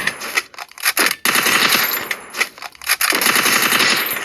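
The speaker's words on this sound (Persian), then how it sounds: "حالا با گانای اینجوری هم با گانای رگباری هم میشه هدشات زد" Rapid automatic gunfire from a shooter video game, loud and close, coming in dense bursts with short pauses between them and no talking.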